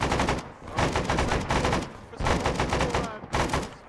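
Gunfire in a military video game, loud rapid automatic bursts coming in several volleys separated by brief gaps.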